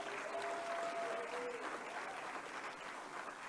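Steady applause from a crowd, a continuous wash of clapping hands that holds at an even level throughout.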